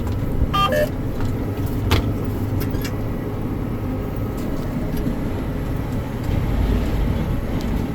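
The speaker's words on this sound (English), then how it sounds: "you can hear the driveline rattles a little bit there, turning if it's under load" A loud, continuous low tractor engine drone with metallic driveline rattling and clanking under load layered over it, steady throughout; a Degleman M34 working a field.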